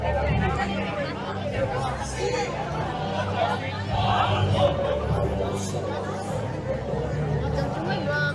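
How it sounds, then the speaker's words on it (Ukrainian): Steady crowd chatter fills a busy bakery in the Philippines, with many overlapping voices forming a dense, continuous babble throughout. "А тут натовп все одно."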